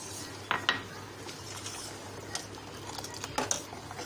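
A utensil clinks and scrapes against a pot while almond milk is gently stirred on the stove, several light metallic taps standing out over a low background hum.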